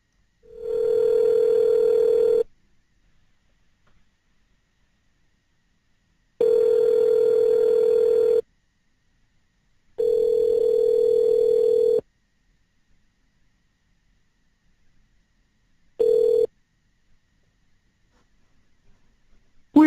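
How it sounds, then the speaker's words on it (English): Telephone call ringing out: a steady single-pitched ring tone repeats in long bursts of about two seconds, separated by silent gaps, loud and clean with no talk. "I'm going to go ahead and try to call Richard Gage again"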